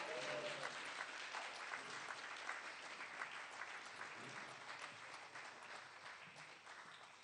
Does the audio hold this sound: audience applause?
yes